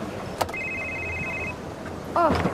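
A telephone rings once with a steady, bright electronic tone lasting about a second, fairly close, over room noise in a dramatic film scene. A brief clatter comes just before it, and voices begin speaking near the end.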